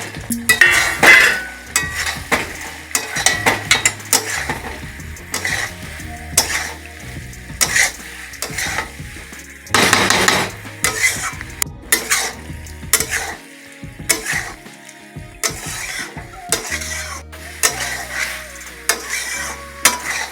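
Fried cauliflower pieces for chilli gobi tumble into a hot pan and are stirred, with loud frying sizzle, scraping spoon strokes and clanks against the pan throughout, one sharp burst of sizzle midway.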